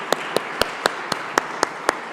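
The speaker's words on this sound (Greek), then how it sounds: "Θα ήθελα ένα θερμό χειροκρότημα" Applause at a workplace wellbeing forum, eight distinct claps at a regular beat roughly every quarter second, clear and near, over a steady murmuring room background.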